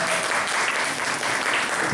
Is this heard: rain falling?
no